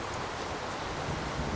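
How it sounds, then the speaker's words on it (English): Rain falling near Mount Arenal volcano, a steady close wash of hiss with no distinct thunder, alone and even throughout. "Rain and gentle thunder."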